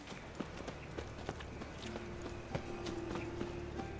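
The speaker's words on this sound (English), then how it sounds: "Let's call for my horse." Horse hooves clip-clop in The Witcher 3: Wild Hunt on PS4, a quiet steady run of evenly spaced hoofbeats over a low game ambience.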